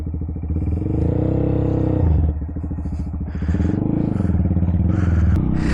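Honda Monkey 125 motorcycle ridden on a rough unpaved road, a close steady engine drone rising and falling with throttle, with rattles and scraping from the rough surface.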